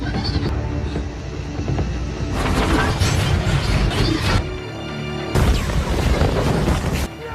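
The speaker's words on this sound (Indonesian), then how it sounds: "Hingga akhirnya USS Sampson meledak dan tenggelam." The destroyer USS Sampson explodes in a naval battle scene from the film Battleship, a series of loud booming blasts and crashing debris in heavy bursts, with a sharp renewed detonation near the end.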